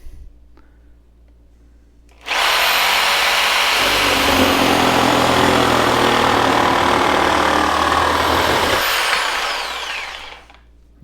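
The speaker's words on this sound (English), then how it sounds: "So we're gonna start the blade and then we're gonna make our cut." Hychika reciprocating saw, model 11501, silent at first, then switching on abruptly to a loud, harsh, sustained buzzing drone as the blade cuts through clamped material for about eight seconds before winding down.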